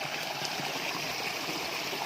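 A small clear stream running down a mountainside in Thailand flows with a steady, even rush and trickle of water, close and constant, no voices.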